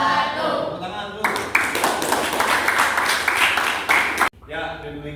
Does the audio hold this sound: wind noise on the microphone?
no